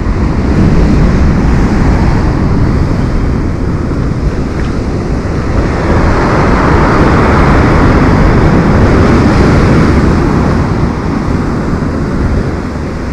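Stormy Black Sea surf pounds a pebble beach at Lazarevskoye near Sochi, a continuous loud roar of breaking waves and hissing wash, with wind buffeting the microphone throughout.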